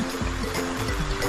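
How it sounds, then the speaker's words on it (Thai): A clear, cold forest stream flowing, with a close, steady rush and gurgle of water running continuously through the short moment. "อันนี้ลำธารชายเย็น เพราะว่าเป็นน้ำไอ้น้ำป่าฮะ"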